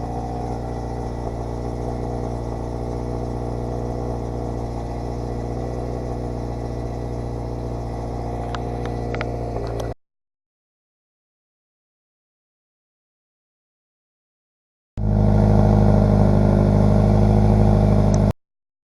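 A car fitted with Ace350 headers and a Tomei Expreme Ti 60S titanium exhaust idles with a steady, deep droning hum, recorded from inside the cabin. After several seconds of silence, the idle returns louder and heavier.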